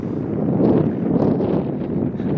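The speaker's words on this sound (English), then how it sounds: "it's real windy up here" Strong wind gusting on a rooftop buffets the microphone with a loud, continuous low roar that swells and eases over a few seconds.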